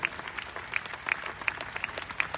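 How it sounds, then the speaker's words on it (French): A political meeting audience applauds in a steady, dense burst of clapping that holds for the whole moment, with a few sharper claps standing out. "Donc applaudissez-vous, parce que c'est une démonstration que vous faites ce soir."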